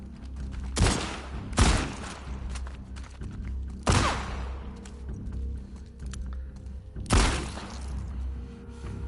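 Gunshots ring out in The Last of Us Part 2, four loud sharp blasts spaced irregularly, each trailing into a short decay over a steady low background rumble.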